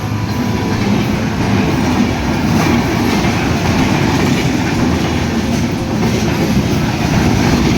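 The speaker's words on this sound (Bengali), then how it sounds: "ঢাকাগামী 758 down Drutojan express Tilekpur railway স্টেশনের 2 নম্বর লাইন দিয়ে এই মুহূর্তে প্রবেশ করছে।" Train 758 Down Drutojan Express bound for Dhaka, hauled by a 6700-series locomotive and crowded with passengers riding on the roof, rolls into line 2 at Tilakpur railway station; a loud, continuous rumble with clickety-clack of wheels on rails.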